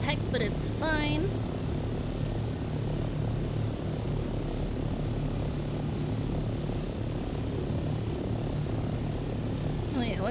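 Propeller airplane engine in a video game, a loud constant droning hum throughout, with brief whistling tones near the start and end and no other clear sounds.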